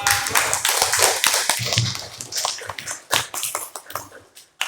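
Classroom applause for students, a burst of uneven close clapping from a small group that thins out and fades, with a few stray claps at the end.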